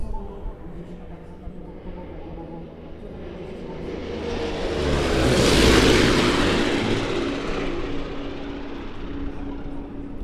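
A WWII-era American bomber powered by twin Double Wasp R-2800 radial engines flies past at an airshow, its broadband roar swelling to a loud peak overhead and then slowly fading, with steady crowd and ambient noise underneath.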